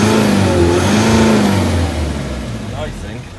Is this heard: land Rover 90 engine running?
yes